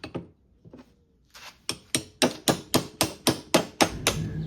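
A hammer forging a metal wedge for a post vise retainer: a few scattered taps, then a steady run of about ten sharp, ringing blows at an even pace, close and loud.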